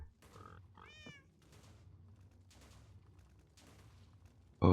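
A cat meows in Minecraft, a short rising-falling call near the start over low game rumble, followed by a sudden loud burst at the very end.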